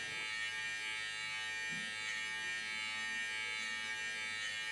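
Electric hair clippers buzz steadily and close up throughout while cutting hair in a barbershop fade, a continuous high-pitched drone with no talk over it.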